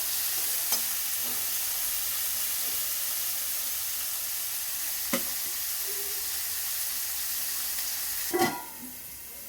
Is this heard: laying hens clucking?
no